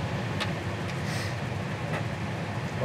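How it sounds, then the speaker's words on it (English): A heater blower fan running steadily inside a 1965 Chevelle convertible, a continuous low broadband whir with a few faint higher ticks on top, fairly loud and close, with no talking. "Heater fan works too."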